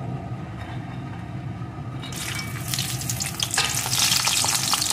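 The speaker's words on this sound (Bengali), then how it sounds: "বড়িগুলোকে একটু লাল লাল করে ভেজে নেব" Bori, lentil dumplings, dropped into hot mustard oil for methi saag: a low steady sizzle swells after two seconds into loud, crackling frying with sharp pops toward the end, no voices.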